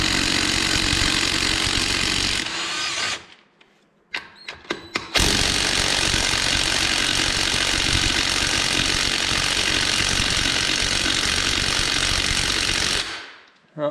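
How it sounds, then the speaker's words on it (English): An impact wrench hammers at 14mm lug bolts on an Arctic Cat Bearcat 454 ATV, a loud, continuous rattling burst, then a brief pause with a few short stutters before another long, steady run. "We'll see if this impact will take these off."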